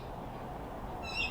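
A short, high bird call rings out near the end over a steady outdoor background hiss.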